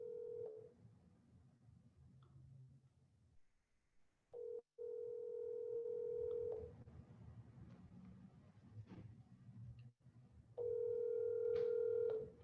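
A telephone line rings out while waiting for someone to answer: three long, evenly pitched ring tones separated by long gaps of quiet line hiss, close and clear, with no talking.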